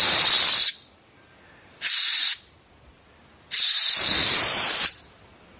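A piercing, shrill whistle blown through an acorn cap sounds in three blasts: a short one, a shorter one, then a longer blast whose pitch wavers near the end. Silence separates the blasts.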